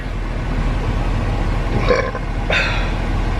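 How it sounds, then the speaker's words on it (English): Two short burps sound close up over a low background hum, one after the other about half a second apart. "Oh, excuse me, I had to burp there."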